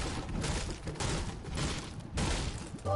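Hand cannon fire and other gunfire in a squad-based shooter video game, a dense, continuous barrage of repeated shots and booms that keeps going for the whole stretch.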